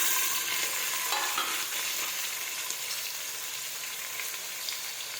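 Ginger and tomatoes fry in a pan with a steady, fairly faint hiss and sizzle, a few light stirring scrapes near the start, and no speech.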